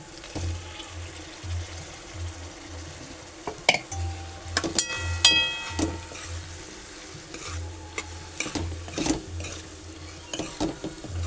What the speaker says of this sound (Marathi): आपण आता त्याच्यामध्ये बटाटा टाकूया हा शिजवलेला बटाटा आहे